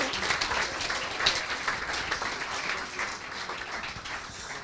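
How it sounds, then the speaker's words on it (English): Steady audience applause after a pitch at a tech event on AI, a dense wash of many hands clapping that carries evenly throughout. "Another applause"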